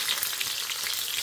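Stuffed okra (bhindi) shallow-fries in oil with a brief, even crackling sizzle close by, no voices.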